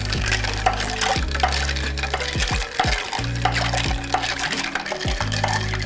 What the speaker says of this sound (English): I'll drop my ice in there. And this is, I'm just gonna give it a nice little stir.